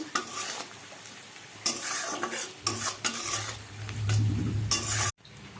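Salt, turmeric and Kashmiri chilli powder being stirred into a masala paste in a pan, a spoon scraping and clattering over a steady sizzle with a few louder bumps, ending abruptly.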